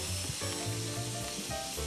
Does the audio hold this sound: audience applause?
no